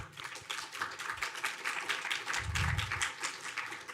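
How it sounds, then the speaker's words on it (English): Audience at a summer institute's final student presentations giving a round of applause, with individual claps distinct and fairly close, a low thump partway through. "If we could give a round of applause to our students."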